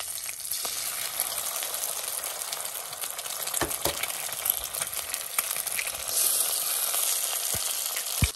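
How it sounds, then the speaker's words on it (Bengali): Local chicken eggs fry with green chilies in hot oil in a wok, a steady close sizzle with scattered sharp pops and a brief surge in hiss near the end, no talking. "ডিম ভেঙে দিয়ে দিই"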